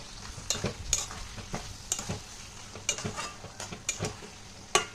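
Chichinga posto curry with potatoes is stirred in a pan over a gas flame, giving a steady low sizzle with intermittent scraping strokes of a spoon against the pan, close and clear, with no voices.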